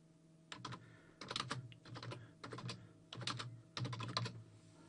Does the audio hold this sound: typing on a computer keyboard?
yes